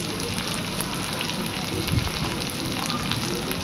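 Chopped onions go into ginger and garlic frying in oil for a tarka, producing a constant, even sizzle with soft crackling spatters and no voices.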